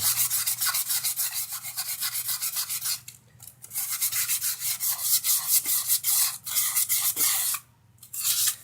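Steady, rhythmic rubbing of fine, soft sandpaper against a stainless steel pot with burnt-on residue, close up, with quick back-and-forth strokes and two brief pauses.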